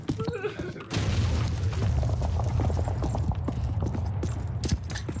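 A grenade detonating in Call of Duty 2: a sudden loud boom followed by a sustained rumbling tail with scattered debris ticks, after brief muffled game noise and a voice.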